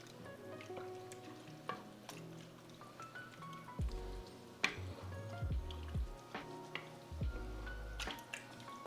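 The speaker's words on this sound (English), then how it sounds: "Now we're just going to give that a mix." Goulash with tomato sauce stirred in a pot, close wet squelches, drips and gloopy slaps of thick sauce against the spoon in an irregular rhythm over quiet background.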